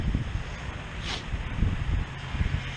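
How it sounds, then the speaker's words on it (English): Wind gusts buffeting a microphone outdoors on a farm during fall tillage and cabbage cutting, a continuous low rumbling roar that swells and fades throughout. "there's probably a little wind on you there"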